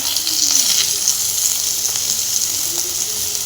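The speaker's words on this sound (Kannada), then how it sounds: "ಅಷ್ಟು ಚೆನ್ನಾಗಿ ನಮ್ಮದು ಕೈ ಫ್ರೈ ಆಗ್ತಾಯಿದೆ" Bitter gourd fries in a pan after about ten minutes of cooking for a palya, giving a steady close sizzle and hiss with faint occasional stirring and no speech.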